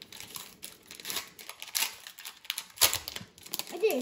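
A retail pack of Upper Deck hockey cards being torn open, a busy run of close crinkling foil and ripping bursts with one sharp tear near the end and no talk.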